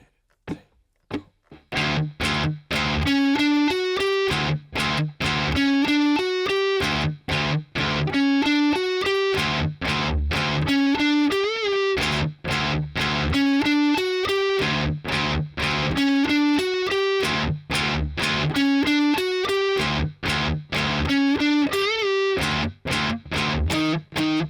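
Distorted electric guitar plays the second intro of a song, loud chugging open-string hits and octave-shape figures repeating in a tight looping rhythm with short gaps, no voices.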